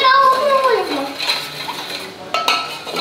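Cake batter of sugar and oil stirred in a bowl, giving steady scraping and clinking of a utensil against the bowl, close and continuous.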